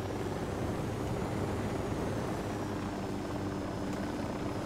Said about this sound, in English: Where's that Unidad helicopter?